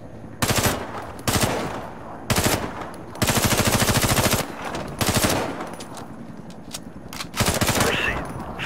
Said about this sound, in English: SMG is a short-range rapid-fire weapon. Very easy to handle, but loses power over distance.